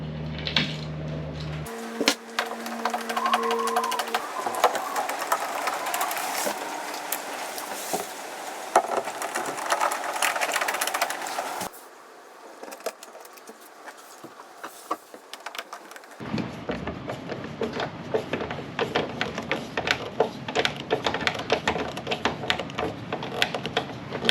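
Cockpit side panel on a boat being fastened in with Phillips head screws during restoration work: a sustained, grinding whir of a power driver close by, with a sharp break partway through and then another steady run of driving.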